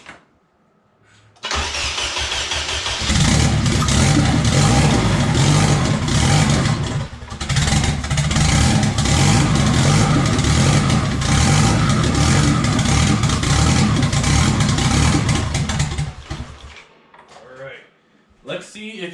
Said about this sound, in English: We are about to try to start it for the first time with the turbo.